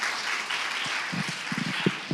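Studio audience at a Hindi-language interview show breaks into a short burst of loud applause, a dense, hissing clapping wash with a few faint low murmurs underneath.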